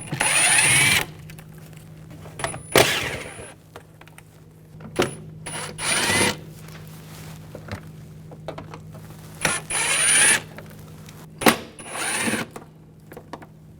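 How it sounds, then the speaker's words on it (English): Screws on the front bumper cover of a 2004-2009 Audi A4 Quattro being removed with a T25 socket driver, several short whirring bursts with metallic clinks between them, close up. "Using a T25 socket, I'll remove these screws."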